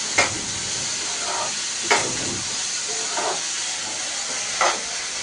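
Food cooking in a pan over a low, steady hiss in a dim kitchen at dusk. A few brief scraping stirs recur at intervals, fairly close and loud.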